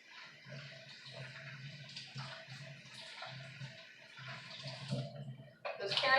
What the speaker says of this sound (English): We're going to take the celery and give it a quick rinse.